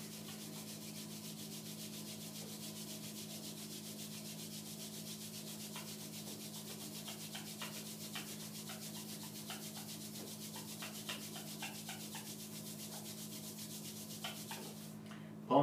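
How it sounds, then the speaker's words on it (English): Palms rub steadily against each other in a quiet room during a meditation session, a soft continuous swishing friction kept up for a long stretch, with light crackles here and there. "Rub your palms."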